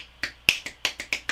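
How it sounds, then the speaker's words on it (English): Seven crisp finger snaps in quick, slightly uneven succession, close and clear with nothing else around them. "Did you know that 1 in 3 people cannot snap their fingers?"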